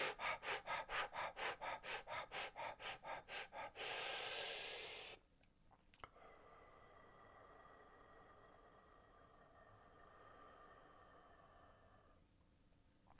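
Rapid rhythmic fire-breath breathing as a breathing exercise, a dozen or so sharp forceful nasal pumps, then a long loud sustained exhale followed by a quiet held stretch and a final breath.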